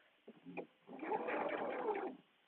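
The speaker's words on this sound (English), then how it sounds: "I'm just going to back stitch at my pin marking." A home sewing machine back stitching on a dress: a soft whirring run of about a second after a few brief clicks and shifts, fairly quiet and close.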